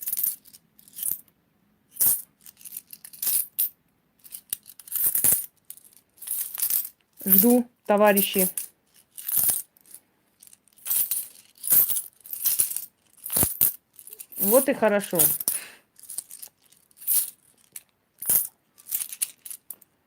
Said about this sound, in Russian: Берите 13 монет в любую руку.